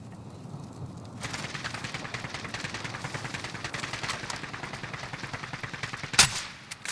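Sustained automatic gunfire from Call of Duty: Modern Warfare, a steady rattle of rapid shots close by on a hillside, ending with one louder crack.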